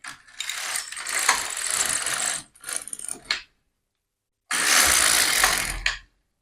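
Carriage of a domestic knitting machine sweeping across to knit two rows, a loud mechanical ratcheting rattle in three bursts with brief pauses between, heard alone with no talk.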